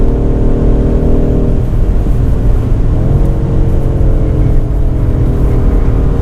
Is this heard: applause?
no